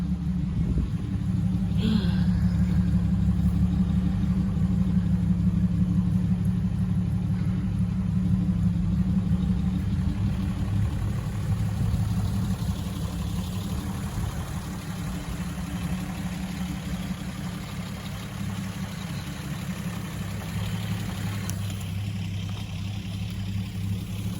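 A Datsun 260Z engine runs on its first start, with a steady, loud, low rumbling idle that continues throughout and eases slightly partway through.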